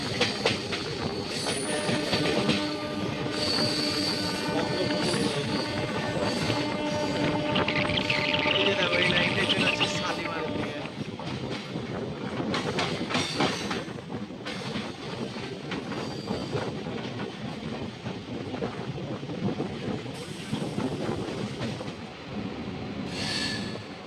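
A Howrah–Medinipur local train runs through the night with a loud, continuous rumble of wheels on rail. High wheel squeals rise over the steady clatter of the carriages.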